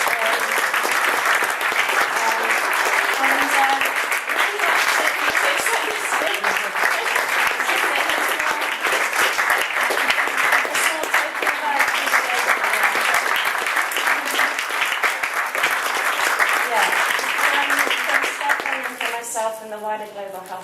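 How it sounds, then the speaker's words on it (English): Sustained, evenly dense applause from a conference audience at the close of a pharmaceuticals and global health event, steady and loud for nearly twenty seconds before tapering slightly at the end. "So a big round of applause for Caris."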